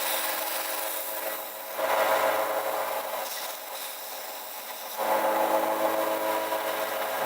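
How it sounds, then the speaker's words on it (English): Hand sanding of wood in a workshop, done from the side: steady abrasive rasping strokes, close and fairly loud, in long passes with a brief quieter gap between them. "I can see what I'm actually sanding."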